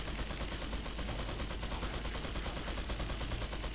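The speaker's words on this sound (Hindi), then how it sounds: "गोली चला रहा है यार" Rapid gunfire in the Resident Evil 4 video game during a helicopter aerial assault, dense and continuous bursts at steady loudness throughout with no talking.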